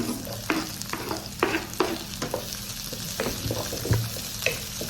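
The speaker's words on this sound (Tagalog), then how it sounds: "Lagay na natin yung sibuyas." Onions frying and being stirred in a pan for pork and chicken adobo, a steady close sizzle broken by repeated scraping stir strokes, with no talk.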